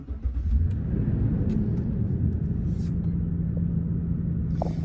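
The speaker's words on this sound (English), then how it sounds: "So we'll go ahead and start the vehicle." A car engine starts with a short cranking rumble, then settles into a steady, even idle nearby, with no speech.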